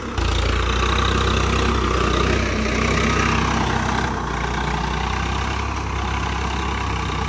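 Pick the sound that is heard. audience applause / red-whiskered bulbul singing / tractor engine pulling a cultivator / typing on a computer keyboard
tractor engine pulling a cultivator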